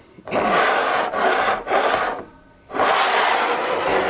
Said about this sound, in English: I'm gonna mix up the glasses.